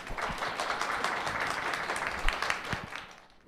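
A crowd at a street feminism talk event applauds to welcome a speaker, a dense, steady patter of many hands clapping from a short distance that fades at the end.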